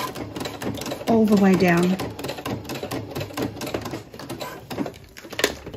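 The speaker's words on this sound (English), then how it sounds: "And I'll do a back stitch nice and slowly, and then I'll go forward." A sewing machine stitches slowly through vinyl on a zipper pouch, giving a fast, even mechanical patter of needle strokes that runs throughout under a woman's close, clear speech.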